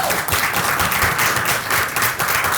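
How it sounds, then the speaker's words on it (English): Close, loud applause from an audience at a Fremont Chamber of Commerce gathering, dense continuous clapping throughout a short burst. "can we also give a round of applause to Cindy"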